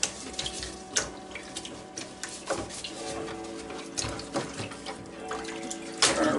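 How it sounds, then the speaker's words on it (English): Steady running tap water splashing at a sink as a food slicer's meat tray is washed by hand, close, with occasional clunks and knocks of the tray against the basin. "And wash it real good with the same solution."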